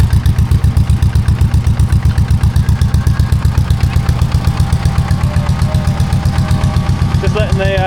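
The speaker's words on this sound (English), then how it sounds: "Just letting the air compressor fill up." A loud air compressor running close by in a shed, filling its tank with a fast, even chugging pulse that keeps up without a break, with a brief squeal near the end.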